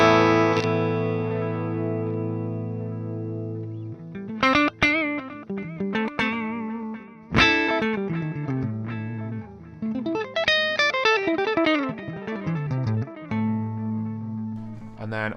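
A guitar played through the delay section of the Neural DSP Archetype:Gojira plugin, with a held chord followed by picked notes and short phrases whose repeats trail off behind each attack, clean-toned, close and moderately loud, with no talking.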